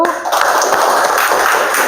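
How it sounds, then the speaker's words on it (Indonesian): Students in a classroom applaud a presenting group, a steady wash of close clapping lasting a couple of seconds. "berikan tepuk tangan untuk kelompok 1"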